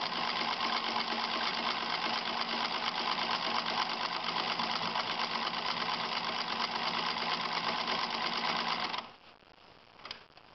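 A sewing machine with an automatic buttonhole attachment stitches a buttonhole in a fast, steady whirring chatter, close and continuous, then stops abruptly near the end, leaving quiet handling noise.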